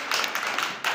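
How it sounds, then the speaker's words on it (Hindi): A group of children in a classroom claps their hands in a quick burst of sharp, bright claps lasting about a second, fairly close, with no speech over it. "मारो मारो ताली जोर से"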